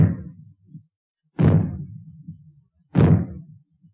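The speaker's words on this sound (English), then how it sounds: "When fallout is expected, you will hear 3 bangs in short succession. They will be sounded by means of maroons like this." Three loud maroon bangs sound as a fallout warning, each a sharp boom with a short rumbling tail, spaced about a second and a half apart against silence.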